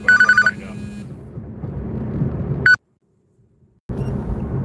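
A telephone rings in repeated electronic bursts, a bright warbling tone cutting over low background rumble before stopping abruptly, then silence and the rumble returning.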